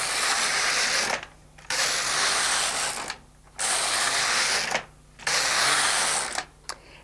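An LK150 knitting machine carriage sweeps across the needle bed in repeated rows, each pass a loud mechanical whirring rattle lasting about a second, separated by brief pauses as the carriage changes direction.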